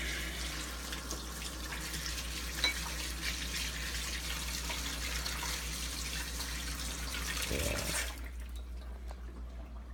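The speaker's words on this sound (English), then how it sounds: "I'll wash that fork off real quick." A kitchen tap runs steadily while a fork is rinsed under it, a constant close hiss of water that cuts off near the end.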